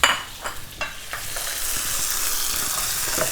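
Sun-dried tomatoes scooped into hot olive oil give a few scraping stirs, then a broad, steady sizzle, loud and close, with no voices.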